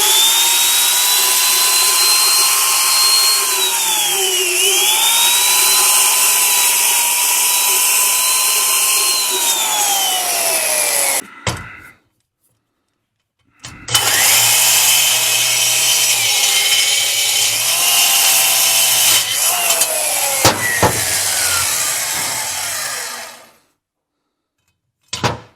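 A valve grinder's stone being dressed by a small adjustable diamond-tip cutter, a steady loud high grinding whine with gliding pitch sweeps, broken by a short pause and then resumed before stopping.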